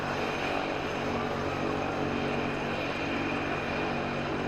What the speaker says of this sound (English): I hope that the sound that helicopter is making is coming through as clear for the broadcast